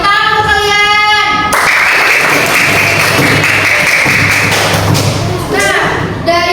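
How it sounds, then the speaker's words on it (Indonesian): Applause from a primary school class at the end of student presentations in a micro-teaching simulation, a loud dense burst of clapping with thumping taps, bracketed by a teacher's speech before and after. "Tepuk tangan untuk kalian."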